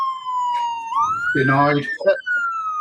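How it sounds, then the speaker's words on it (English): A traffic police car's siren wails steadily, rising in pitch midway, while someone says a word over it and other brief voices cut in nearby. "that traffic cop has still got his sirens going"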